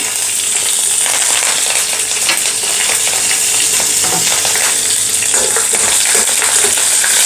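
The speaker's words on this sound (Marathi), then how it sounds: "आता आपण यामध्ये घालूयात हिरवी मिरची कढीपत्ता" Green chillies and curry leaves sizzle and crackle in hot oil in a pan, with a dense, steady frying hiss and occasional stirring scrapes, loud and close.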